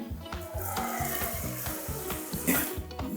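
Alcohol squirted from a rubber bulb syringe into a small jar makes close, rhythmic gurgles and splashy spurts with faint clinks of glass. No one speaks over it.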